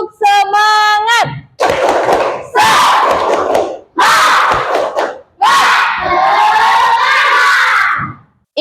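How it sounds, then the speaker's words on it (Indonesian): A class of children shouts a rhythmic spirit chant in loud unison bursts, some with sung tones, separated by brief pauses and ending in a long sustained group cry, close and energetic. "Ibu mau kalian tepuk semangat dulu."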